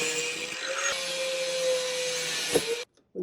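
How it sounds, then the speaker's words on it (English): A plastic trim piece from a Honda CR-V is cut with a power tool for a roof rack fitting, a close steady buzzing whine with a higher tone, stopping abruptly near the end. "I'll make the cut just about ½ inch on either side of that screw."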